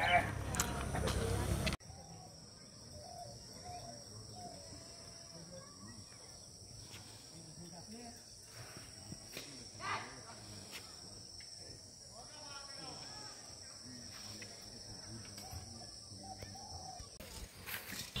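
Crickets keep up a steady high-pitched trill at the abandoned Bhawal Gazipur railway station, while faint bird calls and scattered rustles sit low in a quiet rural backdrop.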